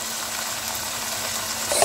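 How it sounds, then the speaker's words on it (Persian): Even, continuous sizzle of chicken sautéing in hot oil, a steady crackling hiss throughout with a slight stir near the end. "بذارید با روغن و بقیه مواد تفت بخوره"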